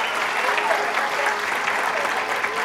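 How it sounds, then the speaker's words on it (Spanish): Steady applause fills a neighborhood meeting at the U.H. CROC housing unit in Coyoacán as the crowd claps for the hosts, continuous and even throughout. "un aplauso fuerte para ellos, que son nuestros anfitriones el día de hoy"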